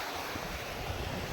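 Incoming sea tide at Mahuva, Gujarat, a continuous washing surge of waves with gusty wind noise over the microphone, close and fairly loud for the short moment.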